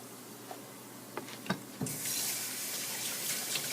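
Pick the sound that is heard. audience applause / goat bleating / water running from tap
water running from tap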